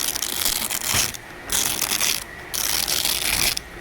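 An aluminum slat hard tonneau cover on a Ram truck is rolled up in bursts of loud ratcheting, rattling clatter, with short pauses between pulls.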